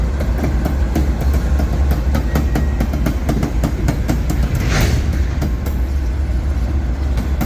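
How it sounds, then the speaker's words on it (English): A Union Pacific freight train rolls past in St Paul, Minnesota, with locomotive 5797 running as the end distributed power unit, a steady loud rumble with a rhythmic clatter of wheels over rail joints throughout. "5797 Union Pacific is the end DPU."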